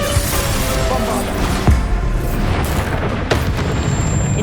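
Bombarda and Confringo spell blasts go off in the video game Hogwarts Legacy, with heavy booms and crashes over a dense, roaring din, and a couple of sharper impacts standing out.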